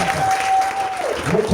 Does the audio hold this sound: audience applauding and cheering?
yes